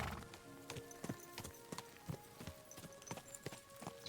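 Horse hooves in Kingdom Come: Deliverance 2 clop in a steady, regular rhythm on hard ground, fairly close but quiet, with no talking over them.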